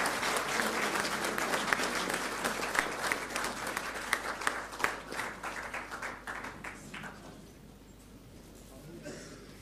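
An audience at a formal ceremony with government ministers and the chiefs of the three armed services breaks into sustained applause, dense clapping that gradually thins and fades toward the end.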